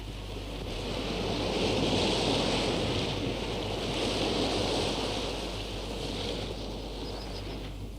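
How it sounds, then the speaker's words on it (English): Sea waves wash against the coast of a small peninsula village at Crookhaven, County Cork, Ireland, with steady wind blowing; continuous broad surf roar swells and eases over several seconds, fairly loud and close, with no voices. "it is invaded by the sounds and colors of the sea"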